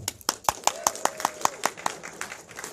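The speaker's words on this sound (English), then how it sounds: "So if your favorite is Frankenstein, cheer for him." Scattered audience clapping at a live comedy-style event for a Frankenstein favorite, about a dozen sharp, fairly regular claps with light cheering and a voice mixed in underneath.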